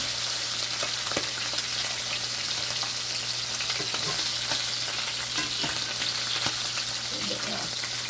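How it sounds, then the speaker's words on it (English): Jamaican festival bake frying in a small, deep Dutch pot gives off a dense, even sizzle that stays close and constant, with a faint low hum underneath and occasional light clicks. "I think I'll do the bake in my little Dutch pot."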